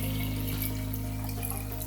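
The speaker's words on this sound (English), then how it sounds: "You just simply pour all the water" Water pours steadily into a jar in a continuous, close, rushing stream with no break, heard alone without talk.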